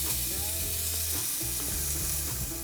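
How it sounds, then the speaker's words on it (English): Homemade breakfast sausage test patty frying on a hot skillet, a dense continuous sizzle with faint crackles, close and steady under a low hum, no voices. "grab a little bit out of here, throw it on the skillet"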